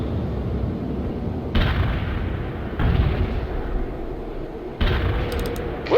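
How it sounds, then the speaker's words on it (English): Artillery fire in the PC strategy game World in Conflict: loud booming blasts land at intervals, each a sudden broadband burst with a rumbling tail, over continuous battlefield noise, with no talking. "Firing artillery"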